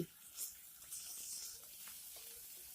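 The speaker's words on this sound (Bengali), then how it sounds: "এইভাবে উল্টে পাল্টে মাছগুলিকে ভেজে নিতে হবে" Fish pieces fry in hot oil with a faint, steady, airy sizzle, briefly broken by a soft scrape or two as the pieces are turned.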